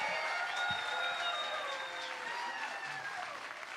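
Thunderous audience applause at an evening showcase contest show, dense and sustained at steady loudness with crowd noise mixed in, fading slightly toward the end.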